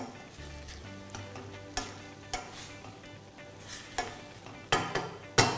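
Onions for onion soup fry quietly in a pan, with a soft continuous sizzle and a series of sharp scraping knocks as a utensil stirs them against the pan, the knocks growing louder toward the end.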